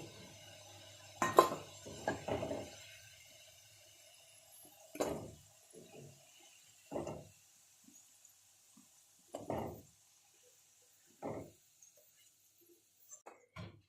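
Freshly fried potatoes scooped out of hot oil and dropped into a pot, giving a scattered series of soft metallic clinks and scrapes at close range with quiet pauses between them.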